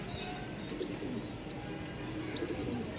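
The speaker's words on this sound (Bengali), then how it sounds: "দেখে নেবেন কবুতর মাশাল্লাহ, ফুল ব্রিডিং মুডে আছে জোড়াটা" A breeding pair of pigeons coos softly and continuously, with a few faint chirps from other birds in the loft.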